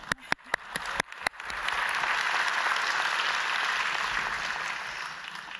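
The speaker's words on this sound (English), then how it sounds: "We should clap for Tom, I think." Audience applause at a professional meeting, opening with a few sharp separate claps before swelling into sustained, dense clapping from a large crowd that holds steady to the end.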